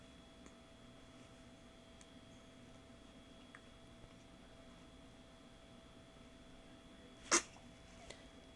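A single short sneeze from a baby girl, brief and fairly close, rising out of a quiet room with a faint steady hum.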